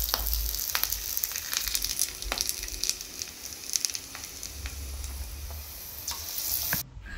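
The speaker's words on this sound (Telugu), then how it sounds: "ఇలా బాగా కాగుతున్న నూనెలోకి ఒక తమలపాకు ముక్కను తీసుకొని పిండిలో ముంచి ఇలా బజ్జీలాగా నూనెలో వేసేసుకోవాలి." Betel leaf bajji dipped in batter frying in hot oil, a loud continuous crackling sizzle with sharp pops and bubbling, no voices.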